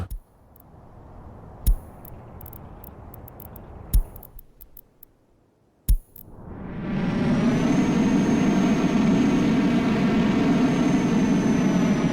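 Aeroplane in the video game Soviet Republic: a low hum with a few sharp clicks fades out, then a loud jet-like roar swells in and holds steady, rich and rumbling, with no voices.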